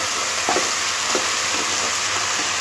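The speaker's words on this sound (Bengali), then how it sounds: "এটা পেঁয়াজের সাথে খুব ভালো করে মিশিয়ে দিতে হবে।" Ginger garlic paste is stirred into onions frying in a pan for a spicy baby potato dum. A loud, continuous sizzle runs throughout, with a few soft scrapes of the spoon.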